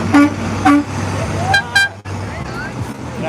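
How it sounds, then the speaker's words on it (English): A work truck on Vancouver Island honks its horn, two loud short toots close by followed by fainter, brief horn bursts over steady engine and road rumble. "An actual work truck honking."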